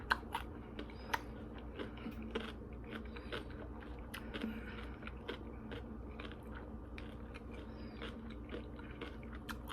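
Close, crunchy chewing of a garden salad with fresh cucumber, steady wet munching and crisp bites repeating throughout with no talking.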